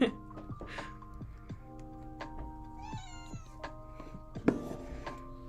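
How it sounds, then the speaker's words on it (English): A pet cat meows repeatedly near an indoor microphone, several short tonal mews and one longer wavering call, scattered between quiet household ticks and faint rustling. "don't know if you can hear my cat."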